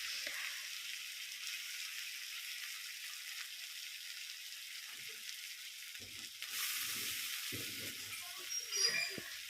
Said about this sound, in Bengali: ঝিরিঝিরি করে আলু কেটে রেখেছিলাম সেই আলুগুলো ভাজা করব